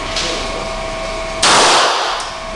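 A single loud 9mm pistol shot cracks out partway through, its sharp report ringing and decaying over a steady background hum, with no talking during the shot.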